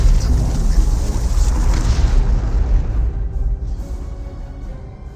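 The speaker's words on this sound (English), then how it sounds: "now we've got the Orbital Strike right there" Orbital strike detonating in the Dawn of War 2 Elite Mod strategy game, a loud deep rumbling boom that rolls on for several seconds before gradually thinning out.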